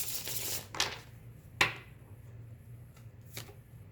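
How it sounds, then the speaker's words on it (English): Tarot cards being shuffled and pulled from a deck: a crisp riffle at the start, then a few sharp snaps and slides of cards, close and quiet with no talk. "I'm going to pull another card on that one."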